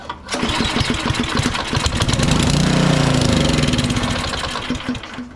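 A Powersmart DB7 snow blower engine, fitted with a replacement carburetor after a fuel problem, fires up abruptly and runs loud and close with a fast, chugging putter that holds steady.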